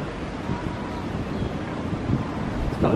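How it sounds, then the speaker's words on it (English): Steady wind roars across the microphone at Waterfront Park in Charleston, South Carolina, a constant rumbling gusty noise with a few stronger buffets near the end, suggesting an exposed outdoor spot. "It's probably really windy right here."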